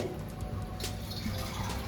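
Faint splashing and trickling of water being poured into a spice mixture and stirred, soft and close, lasting only a moment.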